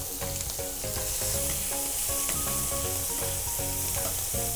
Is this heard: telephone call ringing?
no